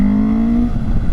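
A Honda CB1000F motorcycle engine is held at about 6,000 RPM, giving a loud, steady, close drone that holds its pitch for most of a second before breaking into rougher rumble as the revs drop.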